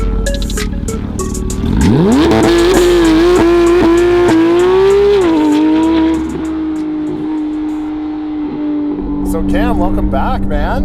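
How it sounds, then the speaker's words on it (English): A Porsche GT3 RS engine revs hard through San Diego canyon roads, rising to a loud sustained howl that holds steady and then eases, with brief engine surges near the end and a voice talking over it. "I hope you can hear it, but this car is a beast."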